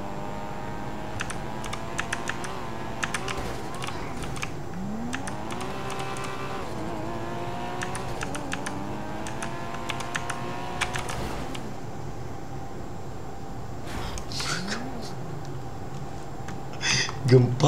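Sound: typing on a broken computer keyboard

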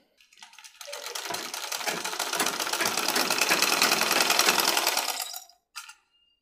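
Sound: sewing machine stitching men's underwear

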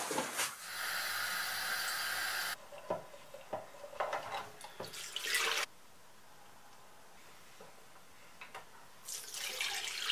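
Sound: water running from a tap to rinse developed film

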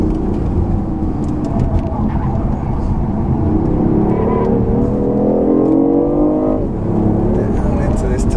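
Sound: BMW i8 hybrid accelerating on a racetrack

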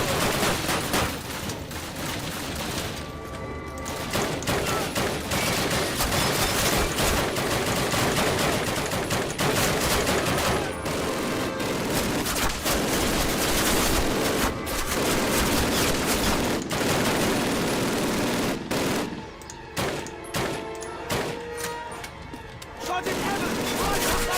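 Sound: high-caliber gunfire in the video game Call of Duty

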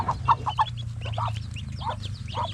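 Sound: newly hatched chicks and hen clucking

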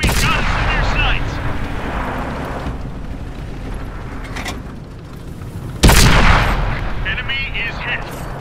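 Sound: tank cannon firing in World of Tanks video game

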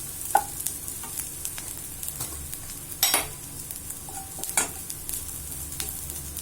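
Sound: sautéing chilli powder and spices in a pan

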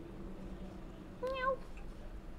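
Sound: cat meowing in the video game Cyberpunk 2077

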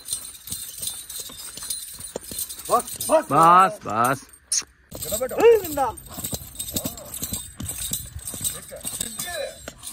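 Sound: horse hooves clip-clopping during dance training

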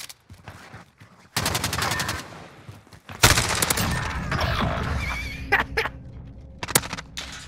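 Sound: MP5 gunfire in a video game

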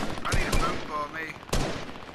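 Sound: gunfire in the video game Fortnite

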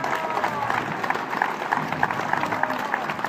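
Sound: applause for friends and relatives far away

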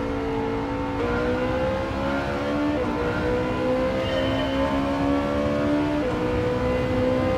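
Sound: Ferrari engine revving in video game Gran Turismo 7

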